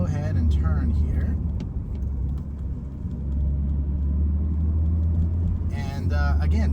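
A Porsche 718 Boxster GTS 4.0 convertible cruises and turns in normal mode with a steady low engine rumble and road noise throughout, while a person talks over it.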